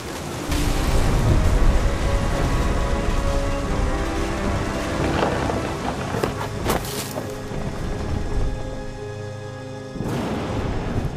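Rain and storm ambience from the video game What Remains of Edith Finch: a dense, loud wash of rain and wind with rumbling low swells, steady throughout with a brief dip near the end.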